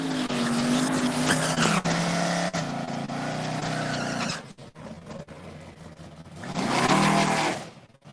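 Drag racing cars, a Chevy Malibu against a GMC, roar loudly as engines rev high and shift pitch, then drop away briefly before a second loud surge with a hint of tire squeal; no voices are heard.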